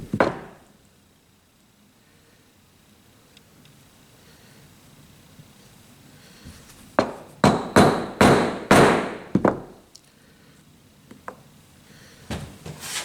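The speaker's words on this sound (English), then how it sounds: "Let's grab us a little chunk of wood here and pop it with a hammer" A hammer pops a steel star stamp into a small chunk of wood, about six sharp, close knocks in quick succession after a quiet stretch of room noise.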